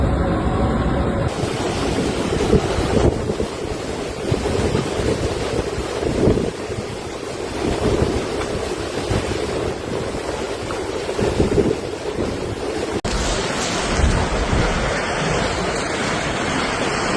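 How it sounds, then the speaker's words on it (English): A severe Mediterranean winter storm roars with heavy wind buffeting and crashing surf waves, a loud continuous wash of noise that swells and dips over about seventeen seconds without any voices. "wind gusts, torrential rainfall, and towering waves rarely seen in this region"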